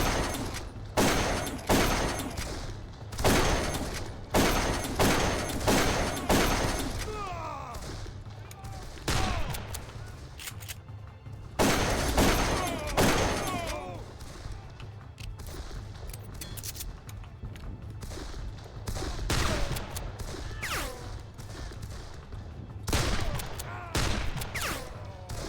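Repeated loud blasts from a futuristic shotgun in the game Darkest of Days, sharp heavy shots arriving in irregular bursts and clusters throughout, with scattered mechanical clicks and a voice speaking over parts.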